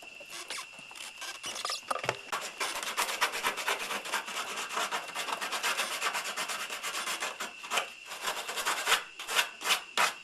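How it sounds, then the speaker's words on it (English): Edges of old tire pieces being sanded while making boat bumpers: a steady, close, gritty rubbing rasp that runs throughout, with short strokes growing more distinct toward the end. "I want to trim these so there's no sharp edges on them. Sand them a little bit."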